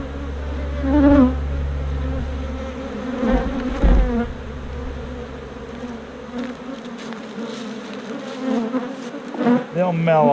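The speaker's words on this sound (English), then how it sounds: "there'll be a little fussing and fighting here, because these are different bees" Honey bees buzz loudly and close by as two hives are combined, with a dense swarm hum that swells and fades as individual bees fly past.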